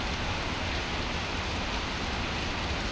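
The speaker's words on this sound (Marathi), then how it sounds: "दमदार हजेरी पावसाला लागलेली आहे" Heavy rain pours down in Navi Mumbai as a dense, even roar of falling water with no breaks and no voices.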